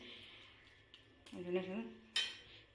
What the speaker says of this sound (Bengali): জল দিয়ে নাড়াচাড়া করে দিচ্ছি।